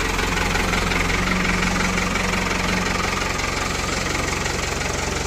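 A heavy diesel tractor engine idles steadily nearby, a loud, continuous low chugging rumble with a faint hum.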